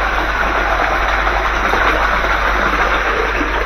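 Sunsun JTP 9000 L/H water pump, rated 70 watts, running steadily at close range with a constant broadband whir and low hum that holds unbroken from start to finish.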